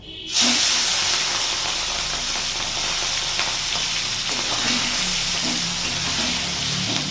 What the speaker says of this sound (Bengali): মাছটা আমি ভেজে নিচ্ছি